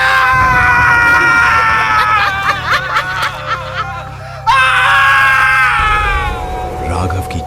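A man's loud, wavering scream in an animated Hindi horror story about a witch bride, a long anguished cry breaking into sobbing gasps, then a second sustained howl, close and dominant over a low musical drone.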